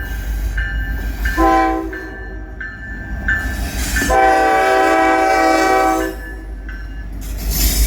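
Old Florida East Coast locomotives pass close by on an outside track, sounding loud repeated horn blasts over the heavy rumble and rattle of rolling rail cars.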